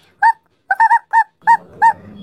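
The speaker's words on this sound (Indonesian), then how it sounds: "Wah, guguknya bersuara lagi." A small dog barks six times in short, close yips, spaced irregularly across a couple of seconds, with a faint low hum under the final barks.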